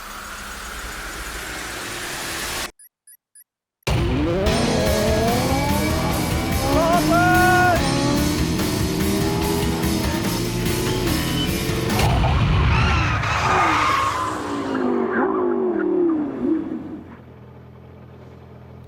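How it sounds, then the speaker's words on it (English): Supercars race an Atom from 0 to 100 and back to 0, engines revving hard with rising and falling pitch sweeps over several gear changes, loud and close, then winding down. "let's see how they do against the Atom in a race"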